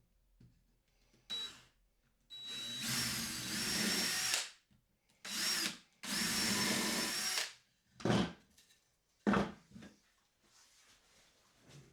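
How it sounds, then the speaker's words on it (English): A power drill whirs in several bursts of a few seconds each, pre-drilling 2x4 wood braces, with short pauses and light clatter between runs. "I want to pre-drill my braces so the screws are straight"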